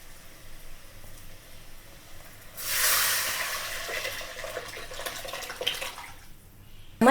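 Tamarind and tomato water poured into a pan for Tamil pepper rasam, a soft steady splashing pour that rises suddenly, stays close and moderately loud for several seconds, then tapers off.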